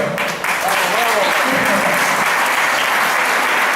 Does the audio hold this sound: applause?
yes